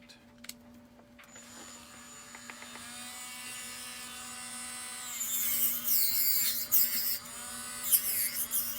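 A power tool with 320 grit buffs spots on a silverware sculpture, a steady whirring grind under a constant background hum, growing louder and more scratchy in bursts toward the end.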